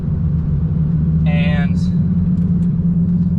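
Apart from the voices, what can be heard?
Lamborghini Gallardo engine while driving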